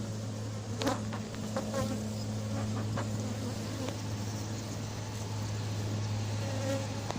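Dense, steady buzzing of many honey bees swarming close by as a beekeeper drives them off while reinforcing a colony, a continuous drone with individual insects whizzing past the microphone.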